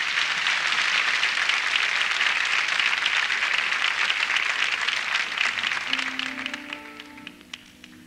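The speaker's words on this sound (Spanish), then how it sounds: "El aplauso fuerte para ella" Loud, dense studio audience applause on a Santiago television show for an international singer, sustained for several seconds before fading out as music begins underneath.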